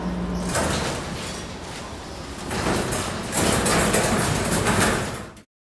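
Sliding door of an instrument parts washer in a sterilization area rolling along its track, a long grinding, rumbling slide that builds and ends in an abrupt stop.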